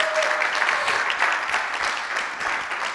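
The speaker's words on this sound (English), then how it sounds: "I want to give a resounding applause for my awesome wife." A dense wash of applause from a small crowd at a singles retreat, steady and fairly close for several seconds, with a few voices mixed in.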